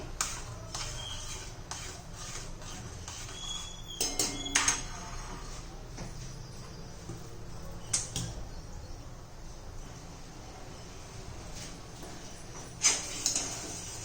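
A spoon scraping and clinking against a cooking pot while sabudana kheer is stirred, light metallic taps at an irregular pace, close and fairly quiet, with a few louder knocks.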